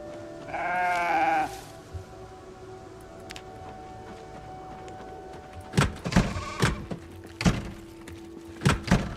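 A sheep bleating in a hunting video game: one wavering, loud bleat near the start, then quieter game ambience followed by a series of heavy thumps and knocks.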